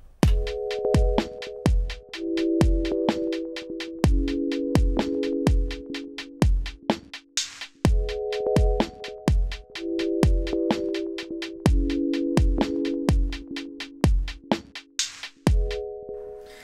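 An Elektron Digitakt plays a looping sequence of sample-based chord pads over a steady drum pattern, the sustained chords shifting every couple of bars beneath crisp, evenly spaced beats, with no talk.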